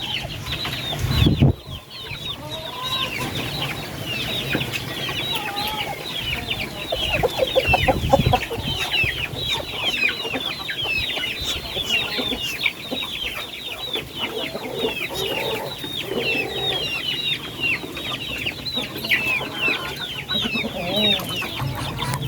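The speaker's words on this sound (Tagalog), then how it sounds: "lakas kumain ng mga alaga nating sisiw" Jumbo barred Orpington chicks and breeder chickens cluck and peep continuously while eating commercial feed, a dense, busy chorus of close bird calls with a brief thump early on and no talking.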